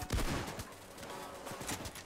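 Rapid bursts of gunfire from the Payday 2 video game, loud and close with repeated sharp shots, heaviest in the first half second and again near the end.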